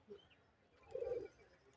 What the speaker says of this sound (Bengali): কত সুন্দর কবুতর